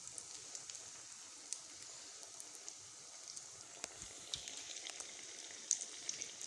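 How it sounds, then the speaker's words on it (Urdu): Potato donuts fry in oil over a very low flame, making a soft, even sizzle with scattered faint pops, close by and quiet, with no talk. "اب میں اس میں یہ ایک ایک کر کے ڈالوں گی اور ان کو بالکل ہلکی آنچ پہ فرائی کریں گے"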